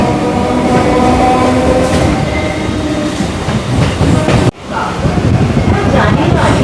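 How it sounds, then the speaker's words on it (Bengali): A local train runs along the Ganga riverbank between Majerhat and the Eden Gardens area of Kolkata, giving a loud, steady rumble of wheels on rail that cuts off sharply for a moment near the end and then picks up again. "অবশেষে আমাদের ট্রেন ছেড়ে দিল"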